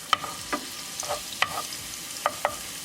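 Garlic fries in olive oil in a pan with a soft sizzle, broken by several sharp scraping strokes of a utensil stirring, with no talking.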